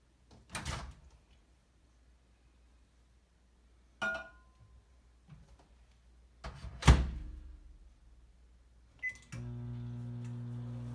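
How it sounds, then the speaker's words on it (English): A microwave oven warms evaporated milk for homemade soft white bread: several door and drawer-like thunks and clicks come first, then a steady, moderately loud electrical hum starts near the end and continues. "we will put our evaporated milk in the microwave for 20 seconds to make it warmer."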